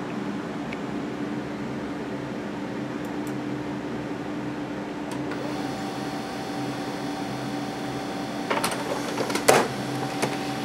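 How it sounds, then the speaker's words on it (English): A printer runs steadily while outputting an RMA shipping label for a failed Western Digital hard drive, a continuous mechanical hum with a few sharper clicks and whirs near the end, close by with no talk. "I guess it's the printer."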